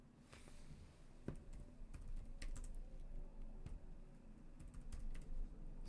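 Quick, light keystrokes tap on a computer keyboard in uneven bursts, close but quiet beneath a constant low background hum.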